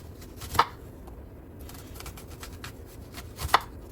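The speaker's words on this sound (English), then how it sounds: "Simply just going to cut some onion rings." A knife slicing onion into thick rings on a board, two distinct firm chopping cuts spaced about three seconds apart, near and fairly quiet against a low background with no talk.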